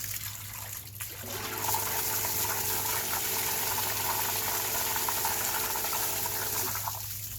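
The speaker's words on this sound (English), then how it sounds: "it's a nice strong flow again, so I can tell that the sand filter is cleared up" Water gushes in a strong, steady flow from the sand filter of an above-ground pool after backwashing and rinsing. It starts as a low hiss, swells to a full rush, holds, then eases off near the end, with no talking.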